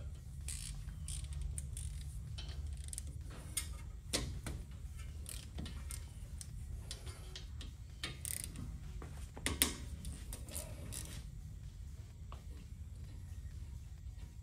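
A 14 mm ratchet works on a Ford F150 brake caliper, giving scattered metallic clicks and knocks over a low, steady rumble, with sharper taps bunching around the middle.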